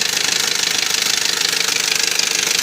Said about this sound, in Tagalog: Baba makina yan. Katok na yan eh.